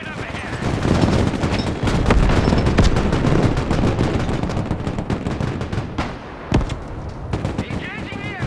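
Heavy gunfire from an armored transport in the Broken Arrow video game, a loud dense stream of rapid shots and booming reports, with brief radio-style voices mixed in.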